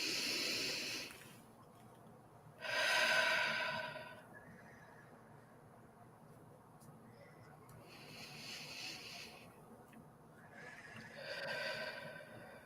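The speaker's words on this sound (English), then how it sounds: "Take some deep breaths" Slow, deep breathing while lying back in a relaxation exercise, with several long airy inhales and exhales at a calm, even pace and soft, close presence.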